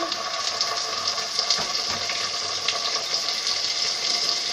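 Onions sizzle in a pan for chicken biryani, a steady, bright crackling hiss of oil with small pops, close and continuous throughout.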